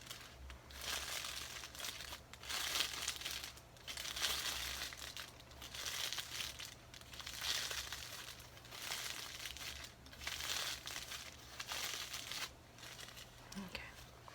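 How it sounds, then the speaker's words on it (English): Aluminum foil crinkled and crumpled by hand for an ASMR aluminum dress, a steady close-up rustling that swells and fades in repeated bursts with brief pauses between handfuls. "let me just crinkle up the aluminum"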